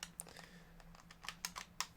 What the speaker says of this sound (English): Get this keyboard so I don't keep hearing the clicking from my laptop.